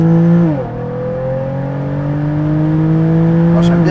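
Hybrid four-wheel-drive car fitted with the Nissan 350Z engine making a launch-control start, a loud steady engine drone that drops in pitch briefly then holds and climbs as the car pulls hard, with no talk over it.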